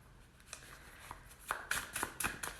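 Tarot cards being shuffled by hand, faint soft riffles at first that grow into several brisk, crisp snaps close by.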